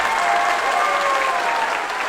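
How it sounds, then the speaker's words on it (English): Audience applause fills a school band concert at a middle school, steady, dense clapping throughout with a faint tonal hum or feedback line beneath. "You can give him a round of applause,"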